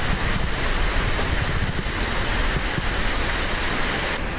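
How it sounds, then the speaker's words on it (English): Steady, roaring rush of Middleham Falls in the Dominica jungle, a dense, continuous wash of falling water heard up close with no break and no voices. "We finally came alongside the waterfall."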